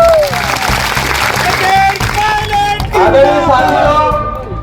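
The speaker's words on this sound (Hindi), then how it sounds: "तो सचिन भैया के लिए जोरदार तालियों से स्वागत करो।" Rally crowd at a Congress party public meeting in Mandsaur applauds to welcome Sachin Pilot, loud dense clapping mixed with cheering and crowd babble, with voices and whistle-like tones over it.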